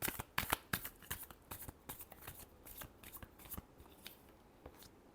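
A deck of tarot cards is shuffled by hand, with quick crisp riffling bursts and soft flicks repeating steadily, close and fairly quiet with no talking.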